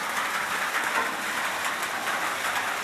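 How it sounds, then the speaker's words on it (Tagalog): Heavy rain drumming steadily on a corrugated iron shelter, a dense, even hiss with no pauses, close and fairly loud throughout. "Lalong lumalakas ang ulan."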